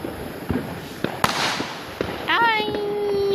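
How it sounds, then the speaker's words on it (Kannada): Diwali firecrackers go off around a home in Malnad: a handful of sharp, scattered pops and bangs, one followed by a rising whistle, with voices faintly in the background. "ಇಲ್ಲೆಲ್ಲ ಇಲ್ಲೆಲ್ಲ ಪಟಾಕಿ ಉಡಿಸ್ತಾ ಇದ್ದಾರೆ"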